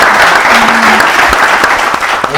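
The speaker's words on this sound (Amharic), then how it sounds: "አጨብጭቡለት።" An audience gives loud, dense applause, a steady wash of many hands clapping close by that holds for the whole stretch.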